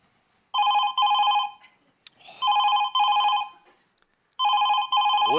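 A telephone rings during a call with a repeating double-ring pattern. Three clear cycles of bright electronic trills sound alone, with short silent gaps between them.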